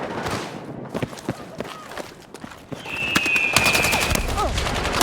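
Battlefield 6 gameplay with gunfire in a busy firefight: sharp repeated shots and bursts, footsteps and scattered game effects, with a player's voice speaking over the action.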